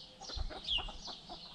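Hens in a garden in France give a few soft, close clucks and a brief squawk in one short, quiet burst, with no talking.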